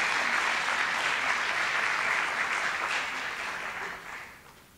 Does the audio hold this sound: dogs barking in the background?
no